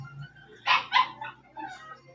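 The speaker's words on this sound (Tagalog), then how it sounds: "Aso. Nag-iingay." A dog gives a few sharp barks and yips close by, two quick loud barks followed by softer whimpering yelps, with no talk over them.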